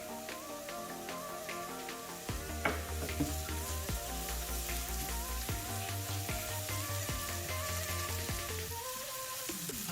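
Garlic is thrown into a pan for a Guyanese-Trini style chicken curry and fries with a continuous crackling sizzle. Music plays underneath and no one talks.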